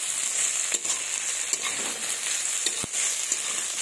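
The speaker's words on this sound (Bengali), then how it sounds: "এই যে টমেটো কুচি দিয়ে দিলাম। এবার ভালোভাবে নাড়াচাড়া করবো।" Fresh green beans with chopped tomato fry in a pan, a steady close sizzle with scattered spatula scrapes and one sharp clack as the mix is stirred.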